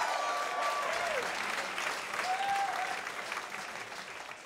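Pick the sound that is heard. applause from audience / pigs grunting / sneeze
applause from audience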